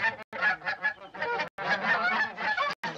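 A flock of geese honks repeatedly in a busy, overlapping chorus of nasal calls, fairly near and steady, broken by a few brief gaps, with no talking over it.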